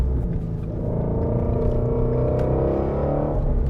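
Steady, loud engine drone from a 2018 Shelby GT350R's naturally aspirated 5.2-litre flat-plane-crank V8 while driving on the road, holding a continuous cruising note with a gentle rise and fall.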